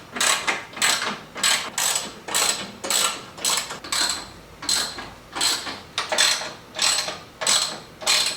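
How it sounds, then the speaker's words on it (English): A socket ratchet loosens the skid plate bolts under a Tacoma pickup, clicking in a steady rhythm of short bursts, each pawl sweep repeated about a dozen times. The sound is close and moderately loud, with no talking over it. "I'm going to loosen up 2 bolts up here and then 2 bolts in the middle"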